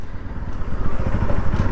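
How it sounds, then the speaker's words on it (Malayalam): A smooth-running motorcycle engine on power petrol, held below 3,000 RPM, gives a steady low throbbing drone with continuous, even pulses and no knocking, close and fairly loud throughout. "നോക്കിങ് ഇല്ല കേട്ടോ എൻജിൻ ഭയങ്കര സ്മൂത്താണ്"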